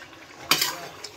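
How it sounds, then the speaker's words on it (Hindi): A single scraping stir of chicken in a kadhai, one brief metallic swipe against the pan over a faint sizzle, close by, with no voice. "अब इसको मिक्स कर लेती हूँ"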